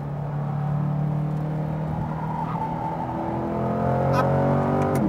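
A Chevrolet Corvette C8 engine accelerating on the Speed Vegas track, a loud continuous roar with rising harmonic pitch as revs climb, heard steadily from start to finish.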